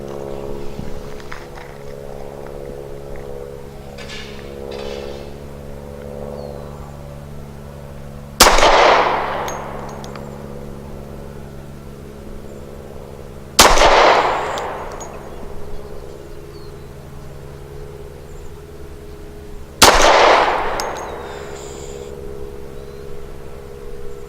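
A Rock Island 1911 Ultra CCO pistol fires 230 grain full metal jacket rounds at 7 yards: three sharp, loud single shots spaced several seconds apart over a steady low background hum.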